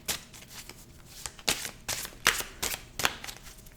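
A Pams Vintage tarot deck being cut and set down on a table, a run of crisp, close papery riffles and taps in quick irregular bursts, fairly quiet with no talking.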